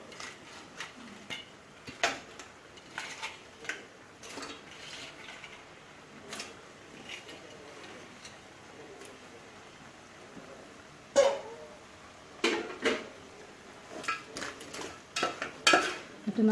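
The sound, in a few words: washed crab added to curry mix in pan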